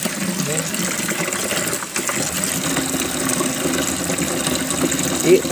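Tap water runs steadily into a container for hibernated crayfish, a continuous gushing pour at moderate loudness under someone talking.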